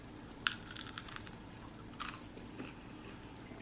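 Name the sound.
biting into crunchy baked three-ingredient snack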